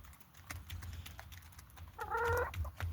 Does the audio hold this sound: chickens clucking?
yes